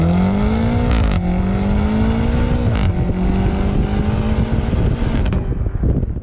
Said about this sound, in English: The sports exhaust is standard with the competition package, and it sounds pretty darn good at full,